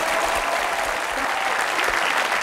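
Studio audience at a French television talk show applauding as the broadcast begins, a thick, constant wash of many hands clapping, loud and unbroken throughout.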